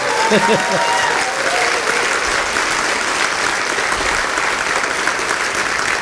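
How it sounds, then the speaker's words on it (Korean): Sustained loud applause from a large church congregation fills the whole stretch, with a voice briefly heard at the start. "다시 한번 박수 주세요"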